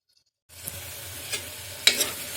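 Tomatoes frying in a pan while being stirred, a low steady sizzle that starts after a short silence, broken by a few sharp scrapes of a spoon against the pan, close and without talk.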